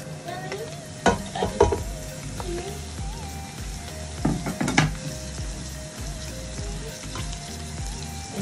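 Ginger and garlic paste sizzles steadily in a hot pot of pilau, a dense crackling hiss broken by a few louder spits and clanks of stirring, close and without talk.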